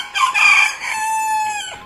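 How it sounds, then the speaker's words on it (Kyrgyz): A rooster crows once, loud and close, a single drawn-out cock-a-doodle-doo call rising then holding a long wavering tone before trailing off, with nothing else around it. "Бастырманын төбөсүнө конгон амалдуу короз канатын жайды да адатынча кыйкырык"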